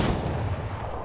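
A brief, loud, dense rumble of gunfire in Fortnite Chapter 5 Season 1, booming and continuous across about a second, with no voices heard.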